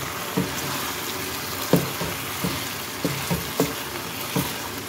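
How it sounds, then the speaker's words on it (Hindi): Chicken fried in a pan with yogurt masala hisses softly and steadily, broken by several sharp spatula knocks against the pan at uneven intervals. "अब ये चिकन को अच्छी तरह से भून लें"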